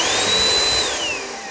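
Black+Decker cordless vacuum cleaner running close by, a loud whirring motor with a high whine that holds steady and then eases downward as it winds off.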